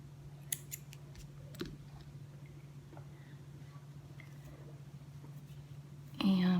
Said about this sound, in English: So I'm going to cut my yarn.